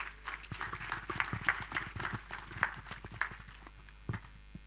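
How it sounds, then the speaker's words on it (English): An audience at an annual general meeting claps to welcome the chairman, a scattered, fairly faint patter of hands sounding from a distance in a hall. "Please, let's welcome her with a clap."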